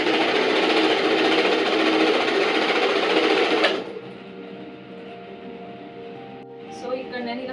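Sewing machine stitching the corners of a fabric hair scrunchie: a loud, continuous motor whir that stops abruptly partway through, leaving a quiet hum, then a brief renewed burst near the end.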